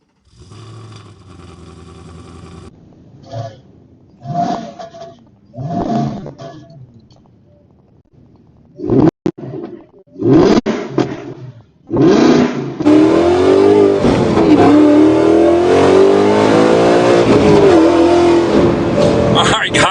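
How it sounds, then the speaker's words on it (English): A 2024 Ford Mustang GT Nite Pony with Valvetronics exhaust, rated at 800 horsepower, gives short bursts of loud exhaust blips and then sustained hard acceleration with a rising and falling roar. "this thing with the Valvetronics exhaust sounds so good"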